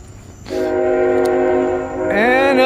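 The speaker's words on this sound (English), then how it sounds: "And a train." A train passes nearby with a long, loud horn blast that holds steady, dips briefly, then sounds again with a rising, wavering tone, over low rumble.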